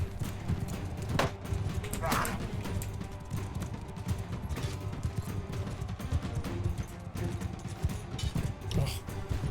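Horse hooves clip-clop in a steady galloping rhythm during a war campaign battle in a video game, with an occasional neigh, mixed with game ambience and a voice talking over it.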